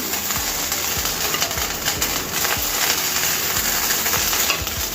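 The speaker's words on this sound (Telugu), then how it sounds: "ఒక్క నిమిషం పాటు వేయించుకుందాం దీన్ని" Paneer fried rice frying in a pan, a steady close sizzle under repeated scraping and stirring strokes from a spatula.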